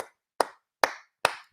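One person claps hands four times in a slow, even rhythm, each clap sharp, close and separated by silence.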